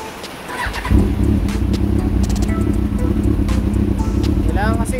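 Yamaha R1 sport bike engine idling close by at low rpm, a steady throbbing drone that kicks in after a brief quiet start and holds evenly, with light wet background noise and occasional faint sounds.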